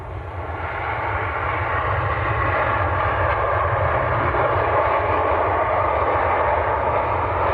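Heavy, steady jet roar with deep low rumble from a TUI airliner arriving from Goa at Manchester Airport, loud and sustained with no voices.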